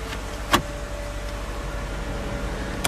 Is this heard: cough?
no